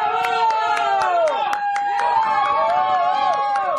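A studio audience applauds and cheers loudly in a continuous wave of clapping, blended with music and voices calling out.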